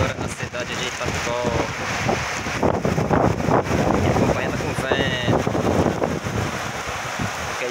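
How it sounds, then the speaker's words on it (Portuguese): Heavy rain pouring down on a town in the sertão of Rio Grande do Norte, Brazil, with water running from a roof spout; a steady loud wash of rain and wind with some voices talking faintly underneath. "Forte chuva agora na cidade de Itapicó."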